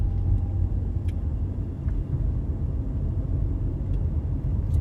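An automatic car runs under light throttle while pulling out to turn left at a junction. Its engine gives a steady, muffled low rumble heard from inside the cabin, with no voices.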